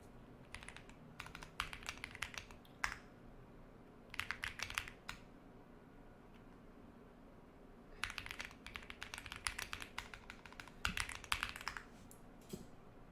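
Rapid bursts of computer keyboard typing, close and crisp, pausing between flurries.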